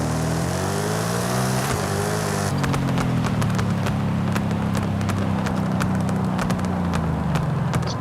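A Shelby GT500 with an anti-lag drag tune in Forza Horizon 5 drones with a low engine note while sharp exhaust pops and crackles fire repeatedly, scattered irregularly over the steady rumble.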